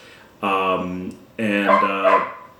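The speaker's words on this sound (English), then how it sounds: "That dog never stops." Two loud, close dog barks, each a drawn-out, slightly whining bark with a short pause between them.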